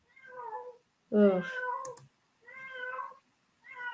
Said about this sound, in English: there is a cat crying in front of my window